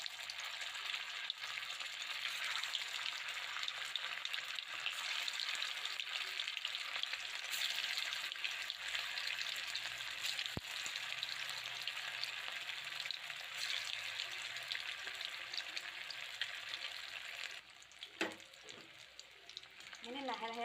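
Soybean kofta balls frying in hot oil in a kadai give a steady, close sizzle throughout, with a brief clatter of stirring near the end.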